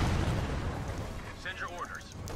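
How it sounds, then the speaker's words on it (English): Rocket artillery barrage in a video game, a dense rumbling roar of distant explosions rolling on continuously, with a voice speaking over part of it. "American rocket artillery gave a pretty interesting pyrotechnics display"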